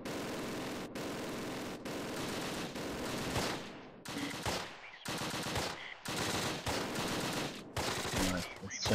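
Machine-gun bursts and rapid gunfire crackle in the Close Combat video game, long dense volleys broken by brief pauses, loud and continuous with a few sharp breaks.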